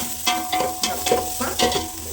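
Mutton keema frying with turmeric and kasuri methi, stirred in a steady rhythm of about six scraping strokes over a constant close sizzle.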